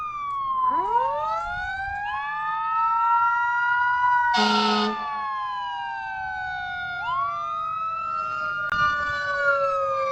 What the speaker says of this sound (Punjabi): ਫਾਇਰ ਬ੍ਰਿਗੇਡ ਵਾਲੀ ਗੱਡੀ ਹੈ